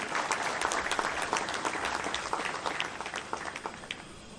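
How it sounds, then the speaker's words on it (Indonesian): A church congregation at a GKII regional office opening in Hitigima, Papua, claps steadily as a crowd, with dense, fairly faint applause that carries on throughout without talk. "Mari kita tepuk tangan untuk Tuhan."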